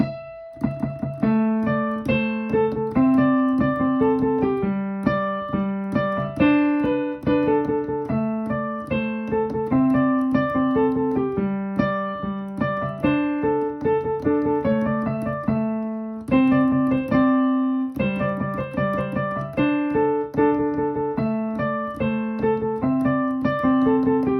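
A fast, bright, sped-up piano rendition of a song plays continuously, its repeating melody and bass notes bouncing along at a brisk tempo with no voices.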